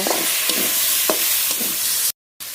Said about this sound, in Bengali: এবার একটু নেড়ে নেব